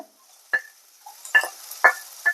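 A spoon or spatula clinks and scrapes against a pan while onions, green chilli and tomato fry for a crab roast, a handful of sharp metallic knocks over a faint low sizzle.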